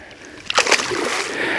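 A brown trout is let go back into the water from the shore at Port Washington, Wisconsin, making one short, close splash and a slosh, followed by a soft wash of water.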